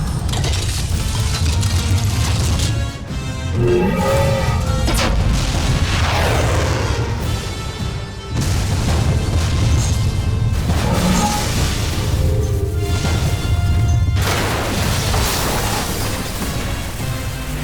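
Mechanical clanking, ratcheting and heavy booming fill a Voltes V Legacy TV scene as the Voltes V Bazooka weapon charges and fires, loud and continuous with rhythmic metallic surges and a brief dip near the middle.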